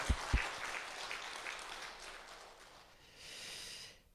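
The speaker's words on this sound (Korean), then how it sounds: "우리 아버지들을 위해서 한번 박수 한번 드립시다" A church congregation claps during a Sunday service, a faint, distant wash of applause that fades away and then briefly rises again near the end.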